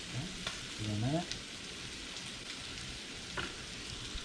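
Shrimp pad thai stir-frying over high heat with green onion in the pan, giving a steady close sizzle with a few brief scraping stirs and clinks, no talk.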